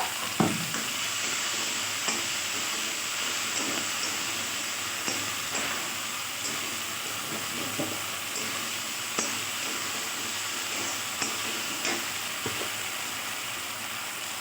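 Ginger and chilli paste sizzles steadily in a hot pan for a moong dal with fish head, a dense continuous frying hiss with occasional soft spatula scrapes and taps, close and without talk.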